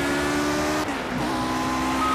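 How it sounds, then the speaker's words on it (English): A race car in the Project Cars video game slides on a rain-soaked Silverstone track, its engine roaring steadily with a brief dip in pitch as it loses grip, loud and continuous. "The car's still sliding, so it just shows the difference."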